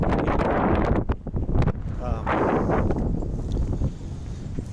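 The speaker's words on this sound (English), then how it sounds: "It's very windy." Strong mountain wind at Woody Gap on the Appalachian Trail buffets the microphone in a constant loud roar, gusting and rumbling throughout with no break.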